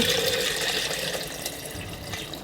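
Steady rushing water pours and splashes continuously, close by, with no voices, as water is added for cold brew tea.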